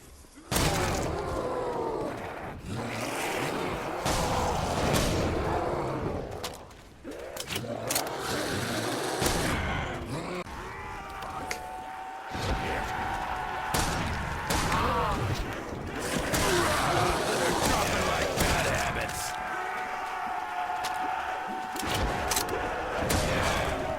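Gunfire from a modded weapon in a shooter game running a realism mod, bursts of shots and booms over about twenty seconds, loud and dense, with game noise and a voice talking at times.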